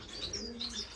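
Gouldian finches chirp and tweet in a bird room, several short high calls overlapping over a steady low hum, fairly close and moderately loud.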